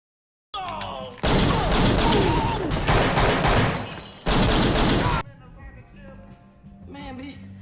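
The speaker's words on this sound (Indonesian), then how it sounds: "Bond hampir ditembak tetapi berhasil merebut pistol dan baku tembak dimenangkan oleh Bond." Dense bursts of gunfire from a James Bond film shootout rattle in two loud volleys, then drop away to quieter background sounds with a voice speaking briefly near the end.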